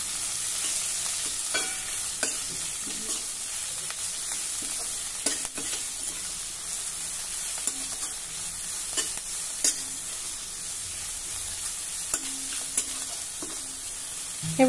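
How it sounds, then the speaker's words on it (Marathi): Chopped fenugreek (methi) leaves sauté in a pan with a soft, continuous sizzle, punctuated by intermittent clinks and scrapes of a stirring spoon close by, with no talking. "हे बघा, ही मेथीची भाजी जरा परतून झाली"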